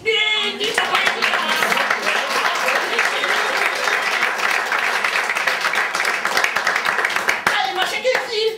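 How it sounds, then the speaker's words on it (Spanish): An audience at a nighttime cultural show with adult puppetry breaks into loud, steady applause for a poetry act, with dense clapping throughout and brief voices at the start and end. "¡Un fuerte aplauso!"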